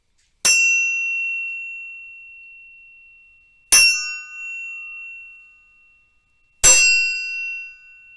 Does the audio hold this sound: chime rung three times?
yes